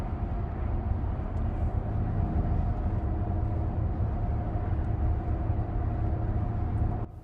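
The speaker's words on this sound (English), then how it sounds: "As far as wind noise goes, like I mentioned around town, it is very hushed in here." Inside a 2025 Audi Q7 55 Premium cruising on the highway: a steady, low road and wind rumble with a faint engine drone, hushed and constant, with no talking, cutting off abruptly at the end.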